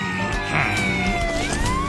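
A cat meows loudly and close by, a short, plaintive call with rising and falling pitch lasting about two seconds.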